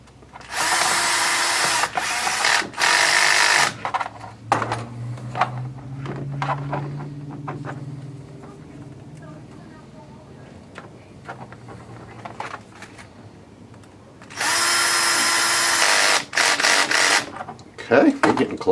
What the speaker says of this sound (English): we'll put a few screws in there